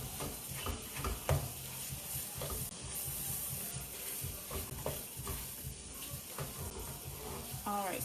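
Ground meat frying in an oiled pan for dirty rice, a steady close sizzle with scraping stirs and occasional clatters running throughout.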